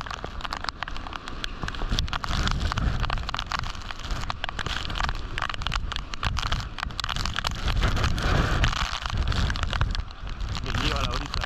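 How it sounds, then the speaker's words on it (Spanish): Heavy rain from Hurricane Iota pounding down on San Andrés, a dense, steady roar mixed with gusting wind noise on the microphone, with voices talking faintly under it. "La lluvia no cesa, la lluvia no para."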